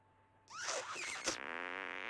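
Cartoonish fart effect from the South Park: The Stick of Truth video game, a single wet, sputtering blast about a second and a half long, close and alone.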